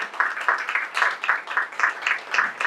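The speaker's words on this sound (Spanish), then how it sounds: "Denle un aplauso a Cristo, porque esa es la obra de la fe." A church congregation claps in a steady, rhythmic beat, moderately loud indoors, each clap distinct as the pattern repeats without pause.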